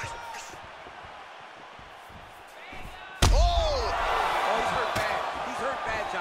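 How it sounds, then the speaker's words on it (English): Heavy leg kick landing in a UFC 4 mixed martial arts video game, one sharp loud slam followed by crowd roar and a steady arena din, with a commentator's voice over the noise. "He's hurt really badly by that one big leg kick."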